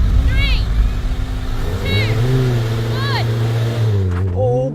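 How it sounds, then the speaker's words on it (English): A Honda NSX hybrid with a twin-turbo 3.5-litre V6 drag racing a Honda Fireblade motorbike: a loud, steady engine drone with rising revving sweeps, close up and continuous throughout, with voices heard over it. "Anyway, we're going to have a drag race."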